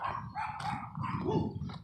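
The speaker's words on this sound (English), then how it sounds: "Sorry about the dogs barking" Dogs bark repeatedly from a moderate distance, a few overlapping yips and woofs in quick succession with no talking.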